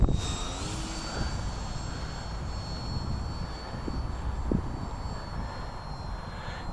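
Hobbyking F4U Corsair plug-n-play RC warbird, its electric motor whining steadily at well under half throttle as it flies downwind, a continuous high tone over outdoor wind noise with no talking.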